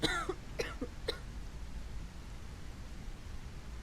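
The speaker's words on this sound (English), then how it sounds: "And he's got a cough." A few short coughs from a character in the zombie game Quarantine Zone: The Last Checkpoint in the opening second, followed by a steady hiss of background noise.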